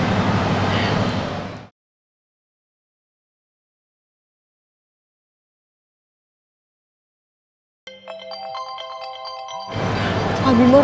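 A phone ringtone chimes in a repeating electronic pattern for a couple of seconds after a stretch of silence, with people talking before and after it in an Indonesian TV drama scene.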